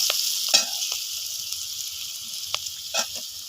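Bitter gourd fries and sizzles steadily in a pan over a clay stove, with a few sharp scrapes and clinks from stirring against the steady hiss.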